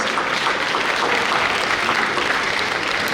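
An audience at an academic symposium honouring a king gives a sustained, dense round of applause, loud and even from start to finish with no pause.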